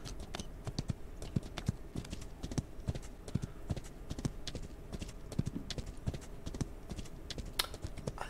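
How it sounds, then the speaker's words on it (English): Horse hooves galloping over desert ground in the video game Outlaws of the Old West, a rapid rhythmic clip-clop of muffled, soft footfalls repeating steadily and close, with no talk. "Love the different sound the horse makes when you're running on the in the desert than in the on the rocks and stuff"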